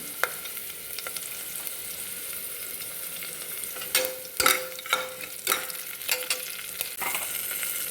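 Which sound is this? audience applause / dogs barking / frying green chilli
frying green chilli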